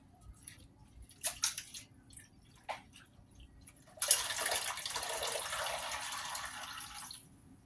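Fumbwa leaves being washed by hand in water: a few scattered drips and light splashes at first, then a steady, close rush of running water and sloshing that lasts several seconds before stopping.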